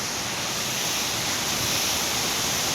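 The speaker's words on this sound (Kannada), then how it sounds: "ಹೊನ್ನಮ್ಮ ದೇವಿ ಫಾಲ್ಸು ತುಂಬ ಚೆನ್ನಾಗಿದೆ" Honnamma Devi waterfall near Chikmagalur, a steady, dense roar of falling water that fills the space evenly and continuously, loud and close with no other sounds.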